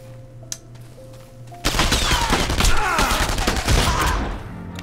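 A trench gun fires in the World War II shooter Enemy Front, starting abruptly after a quiet hum and continuing as a dense, loud burst of overlapping shots and gunfire that tapers slightly toward the end.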